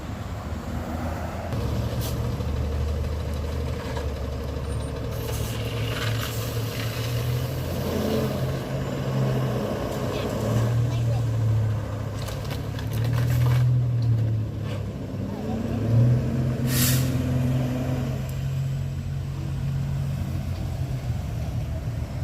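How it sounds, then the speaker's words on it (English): A tow truck idles and rumbles nearby as it hauls away a 2006 Dodge Magnum, a low steady engine drone with a rising growl as it pulls off, mixed with outdoor background noise. "poor Dodge was getting pulled away with the tow truck"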